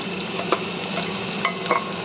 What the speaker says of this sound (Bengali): পেঁয়াজটা সুন্দর ভাজা হচ্ছে